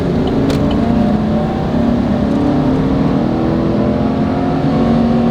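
A 2019 Chevy Silverado Z71 Trail Boss pulls hard from a rolling start toward highway speed, its engine drone climbing steadily with rising harmonics under constant loud road and cabin noise, heard from inside the truck.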